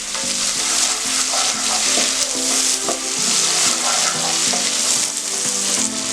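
Curry leaves crackle and sizzle in hot oil for a Chettinad fish curry, a loud steady frying hiss with occasional pops and stirring sounds.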